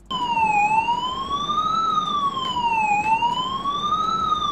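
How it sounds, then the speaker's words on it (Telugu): A Qubo Smart 360 security camera's alarm wails like a police siren, a loud electronic tone sweeping slowly up and down in steady cycles with nothing else audible. "పోలీస్ సైరన్ లాగా అలారం మోగుతుంది"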